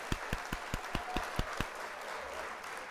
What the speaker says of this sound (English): We're going to hit the applause right there